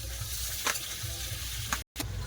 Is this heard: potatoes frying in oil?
yes